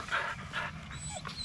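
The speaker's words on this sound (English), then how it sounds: "Yeah, that dog might make him nervous, so be careful." A dog whimpering and panting near an RV park, a few high whines and soft breathy pants heard close up over a faint outdoor background.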